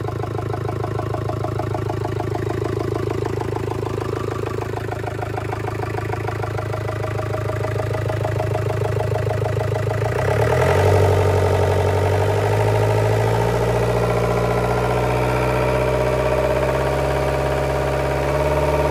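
A Yanmar 4TNV94 four-cylinder diesel engine idles close by with a steady, even clatter, and its pitch shifts partway through as the engine speed changes, with no talking over it.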